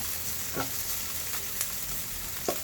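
Squid cooks for adobo in a hot pan with a soft, continuous sizzle, broken by a few brief scrapes and stirring clicks, close by and fairly quiet.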